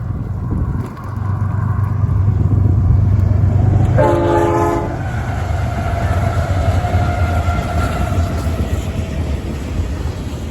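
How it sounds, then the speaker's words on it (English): A train rumbles past steadily and loud, with a clear horn blast cutting through for about a second midway, the rolling noise continuing throughout, heard outdoors on a bike tour route. "Was hoping he'd blow the horn. He did, just for her."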